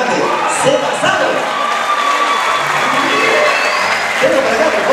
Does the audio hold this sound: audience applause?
yes